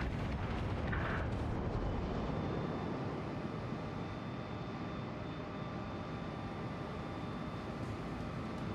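Battleship guns firing in World of Warships aboard the Soviet battleship Oktyabrskaya Revolutsiya, a loud, dense, sustained roar of heavy gunfire and rumble that fills the whole stretch without talk.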